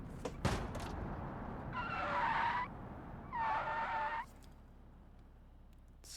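Video game car brakes hard and skids, producing two bursts of squealing tires between engine noise, fairly quiet and without talking.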